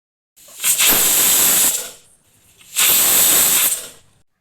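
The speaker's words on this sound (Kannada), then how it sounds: "ಕುಕ್ಕರ್ ಮುಚ್ಚಳ ಮುಚ್ಚಿ 2 ವಿಷಲ್ ಕೂಗಿಸ್ಕೋಬೇಕು" A pressure cooker of pulao lets out two loud hissing, steamy whistle bursts, each lasting over a second, with a short quiet gap between them.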